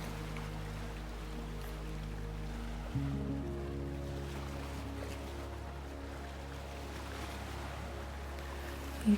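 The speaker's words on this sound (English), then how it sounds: "the waves continue their soft music beside you" Soft waves wash steadily along a shoreline, a low, even rumble of surf with gentle swells and no voices.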